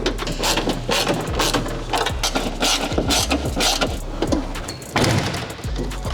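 Ratcheting and clicking of a wrench tightening bolts on an Aeroflowdynamics V3 wing on a Subaru WRX STI, with rapid continuous mechanical clicks, close and loud, alongside clanking hardware.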